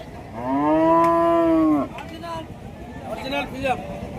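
A Sahiwal-Friesian crossbred cow at a cattle market in Rajshahi, Bangladesh, gives one long, loud moo up close, followed by quieter background voices and farmyard noise.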